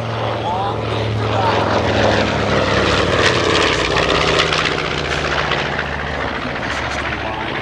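B-25 Mitchell bomber "Panchito" at an air show, its propeller engines droning loud and steady as it flies past, with a voice talking over the roar.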